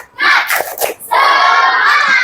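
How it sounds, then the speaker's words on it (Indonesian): Sixth-grade schoolchildren in a classroom perform a rhythmic 'tepuk semangat' clap cheer, loud group chanting and shouting with a few sharp claps near the start, then a sustained burst of voices. "Tepuk semangat."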